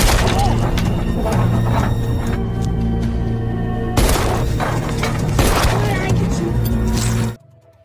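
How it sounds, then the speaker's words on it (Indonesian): Loud bursts of gunfire and booming impacts from an action scene, layered over dramatic music and crashing effects, ending abruptly in near silence. "Namun tiba-tiba Yong Kang memberi Heso sebuah pistol dan inilah yang terjadi."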